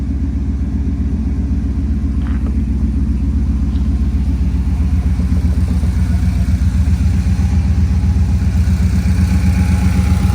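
A square-body truck engine with a big-block and Holley Sniper fuel injection idles at 900 RPM with a deep, steady rumbling throb, loud and close, running continuously without pause.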